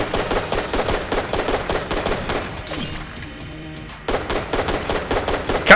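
Rapid bursts of video-game gunfire from Enter the Gungeon, loud and continuous in quick repeating volleys, with a short lull midway before the shooting resumes.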